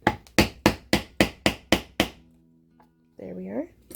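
A metal rivet setter is struck with a hammer to set a rivet on a handmade leather purse, eight sharp, evenly spaced blows in quick succession, close and loud, followed by a quiet pause and a brief voice.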